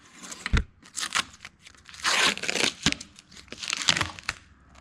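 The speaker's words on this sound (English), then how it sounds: "That packing tape comes right off of repairs." Packing tape peeled in quick crinkling, tearing bursts off a repair on a 1999 Kenworth truck, close and fairly loud, several strips ripping away in turn with short pauses between.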